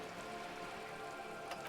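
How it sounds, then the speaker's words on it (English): Rain falling on wooden boards and water in a video game: a steady, dense hiss of drops pattering continuously with scattered louder splashes, even and moderately quiet throughout. "All around you, rain keeps falling down. On the wooden boards she's standing on, and on the water around you."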